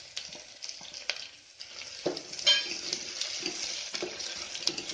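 Green chillies and curry leaves frying with garlic in a pan for moong dal rice, a steady close sizzle with a few sharper crackles and spoon stirs.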